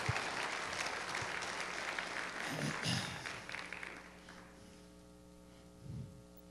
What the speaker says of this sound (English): Could we give them a hand clap of appreciation?